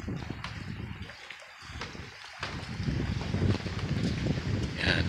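Blustery wind at a beach resort as the tide comes in toward high tide, a steady broadband rush buffeting the microphone, with faint water and surf noise underneath, louder in the second half and no one talking.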